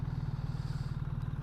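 A BMW R 1300 GS motorcycle engine runs steadily up close, a low pulsing throb with a faint mechanical clatter over it and no voices.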